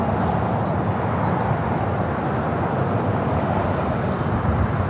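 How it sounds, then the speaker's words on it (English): Gulfstream G450 business jet arriving on the south side runway 25L at LAX, a steady broadband jet roar that holds evenly throughout with no voices. "This one coming up from Cabo, Gulfstream and G450 arriving here on the south side at 25 left."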